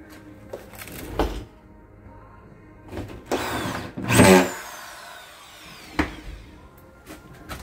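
A power drill drives screws into drywall being hung, several short whirring bursts with one longer rising spin, each bite close and loud against quiet pauses.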